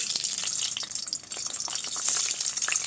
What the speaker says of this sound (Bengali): ডিমটা ভেজে নেব তেল দিচ্ছি কড়ায় ডিম দিচ্ছি